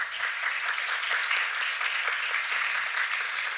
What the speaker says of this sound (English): please give them once again a big round of applause